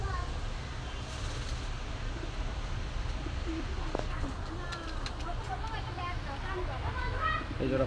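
At a weekend fair for high-flying pigeons, soft pigeon coos come through faintly beneath a steady murmur of crowd chatter and nearby voices.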